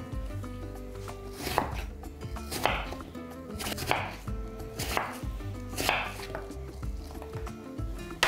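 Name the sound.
chopping food into cubes with a knife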